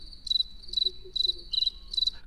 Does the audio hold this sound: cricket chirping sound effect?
yes